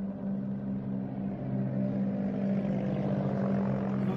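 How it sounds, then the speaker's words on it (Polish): A crop-spraying airplane flying low over a soybean field, a steady droning engine hum heard from inside a closed car, moderately loud and continuous with no talk. "Nagle nadlatuje samolot rozpylający żółty preparat nad polem soi."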